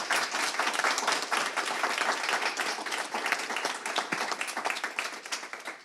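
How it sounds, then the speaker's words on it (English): Sustained applause from a conference audience honouring a panel of first-time CEOs, dense steady clapping from many hands filling the room at a loud, even level throughout. "Just a round of applause for our amazing panelists."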